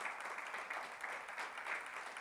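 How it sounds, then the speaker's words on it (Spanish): A church congregation applauds in a steady, dense wash of clapping that holds evenly throughout without pauses. "Y a su nombre le da un aplauso al Señor fuerte"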